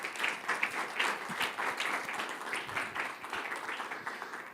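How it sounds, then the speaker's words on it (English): An audience at a live-streamed learning event applauds with steady, dense clapping that holds at a moderate level throughout, with no voices over it. "Here is your applause."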